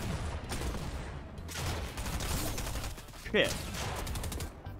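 Fortnite gunfire crackles in rapid bursts through a busy, noisy game mix, with a brief voice exclaiming partway through.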